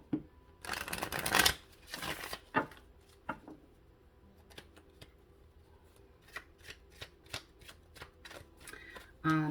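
A deck of tarot cards is shuffled close by: a loud riffling burst early on, then a run of crisp, regular card taps and flicks that continue to the end.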